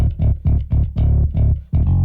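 A bass guitar line of punchy repeated notes with a gritty, saturated tone from a Soundtoys Decapitator plugin that adds brightness and buzz, loud and up front, no talking.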